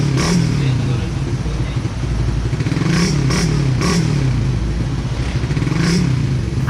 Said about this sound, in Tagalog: Siyempre, sound check din natin yung ating gagamiting pang daily na pipe.